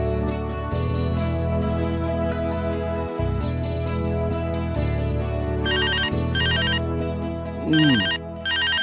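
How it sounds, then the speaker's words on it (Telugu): A telephone rings with a melodic electronic ringtone inside a home in a Telugu TV serial, repeating steadily and loudly over soft background music with no talking. "ఆ ఫోన్ ఎవరో చూడు"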